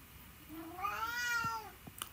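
A cat gives a single drawn-out meow that rises and falls, fairly faint against quiet room tone, followed by a few small clicks.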